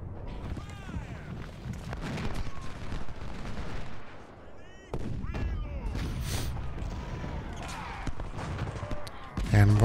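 Musket volleys and artillery fire from a Civil War battle in Ultimate General: Civil War, scattered gunshots and booms throughout, heard under continuous talking.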